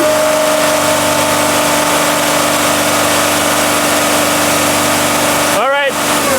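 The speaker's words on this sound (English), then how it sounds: "Rev it again." A Sprinter van engine with low power and a DPF problem runs steadily near at hand, a constant drone that builds toward a brief rev at the end.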